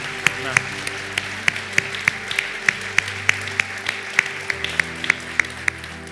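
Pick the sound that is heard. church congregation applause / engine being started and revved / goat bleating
church congregation applause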